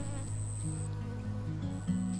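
Native Australian bee buzzing in a garden, a steady close, droning hum that wavers in pitch as the insect hovers, with no voices.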